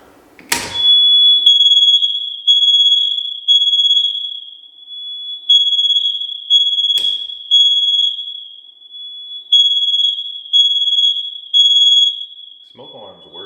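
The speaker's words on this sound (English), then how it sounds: "that one's a smoke alarm" A smoke alarm sounds in a building, a loud piercing steady tone pulsing in repeated groups of beeps, with a couple of sharp clicks and brief background voices.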